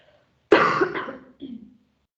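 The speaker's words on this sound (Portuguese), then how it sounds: "Desculpa, precisei dar uma tossidinha." A single adult cough during a lecture, one harsh close burst followed by a shorter second bark, with silence around it.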